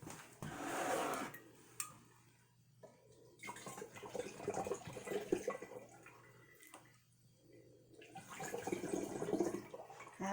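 Homemade dandelion wine glugs and splashes as it is poured out of a jug, in a few uneven bursts of liquid, close by and fairly soft, with brief pauses between pours.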